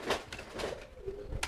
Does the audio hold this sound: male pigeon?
yes